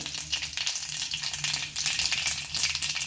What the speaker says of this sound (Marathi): जिरे छान तडतडले आहे